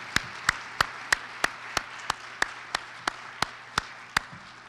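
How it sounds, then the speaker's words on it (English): A single pair of hands or a small group claps slowly and evenly, about a dozen sharp, distinct claps at a steady rhythm, for the vocal opera performers at a Rotary performing arts competition; no talking. "How about a nice round of applause for all the vocal opera performances for tonight?"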